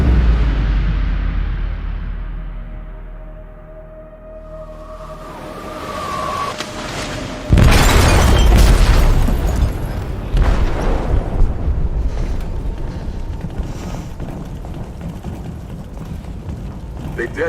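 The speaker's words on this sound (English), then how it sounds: "They detonated an explosive in the hold." A ship's hold rocked by a detonated explosive in Detroit: Become Human, a sudden loud low boom breaking over a tense rumbling game soundscape, followed by sustained roaring debris and rumble.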